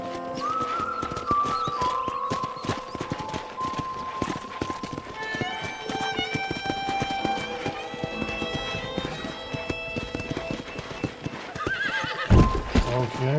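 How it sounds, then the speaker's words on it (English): Hooves clip-clop steadily as a horse is ridden in the Red Dead Redemption video game, with a whinny near the start and a louder neigh near the end, over soft game music and voices. "let's see if you can still ride a horse"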